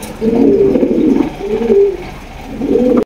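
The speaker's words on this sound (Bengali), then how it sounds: "একজোড়া ব্ল্যাকলেস শাটিন কবুতর দেখতে পাচ্ছেন" A pair of blackless satin pigeons coo up close and loud in three rolling, throaty phrases with short gaps between them.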